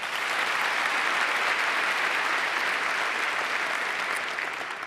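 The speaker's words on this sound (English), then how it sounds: "Quick round of applause." An audience in the Melbourne Town Hall gives sustained, even applause during a televised panel broadcast, a thick roar of clapping hands that stays loud throughout.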